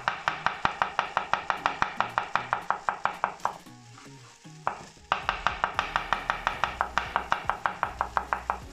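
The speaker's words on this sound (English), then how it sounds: "chopping 2 cloves of garlic" A knife chops two garlic cloves on a board in a home kitchen, fast regular strikes that pause briefly mid-way before the rapid chopping resumes, close and clear.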